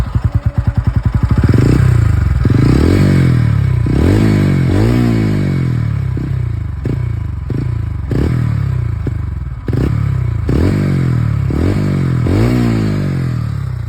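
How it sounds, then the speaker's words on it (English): TVS Ronin motorcycle cranking to a start, then a loud, close single-cylinder exhaust note with repeated throttle blips rising and falling in pitch over a steady idle. "So let's start it up and see the exhaust note."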